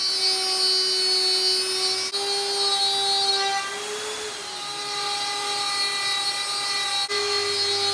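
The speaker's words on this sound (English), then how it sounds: "I just need to complete the cutting of the top of the assembly table here" A power saw cutting the wooden top of an assembly table for a T-track system, a loud steady high whine that dips briefly under load midway, with no talk.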